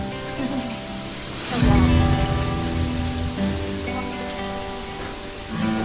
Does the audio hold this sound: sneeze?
no